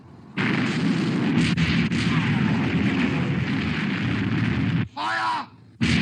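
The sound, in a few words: battleship gun turrets opening fire in war film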